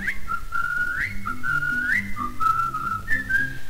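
A lively march melody from 1954 is whistled solo and close, with bright rising and falling phrases over faint background accompaniment.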